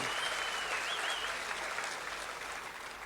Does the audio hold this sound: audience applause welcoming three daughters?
yes